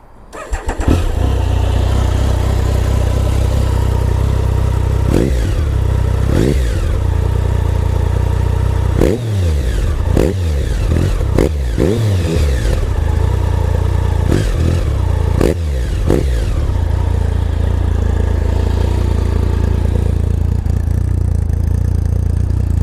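A Triumph Sprint GT 1050 motorcycle fitted with a Scorpion Serket exhaust starts and settles into a steady loud idle close by, broken by several sharp throttle blips that rev up and drop back, with no talking.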